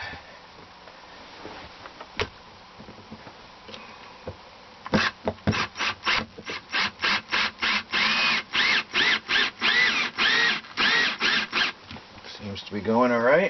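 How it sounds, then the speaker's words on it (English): A power drill drives a screw into RV flooring in a quick series of loud, close bursts, each whirring press followed by a brief pause, after a few scattered knocks and handling sounds. "I think I'm going to use my power drill for this and put it in there."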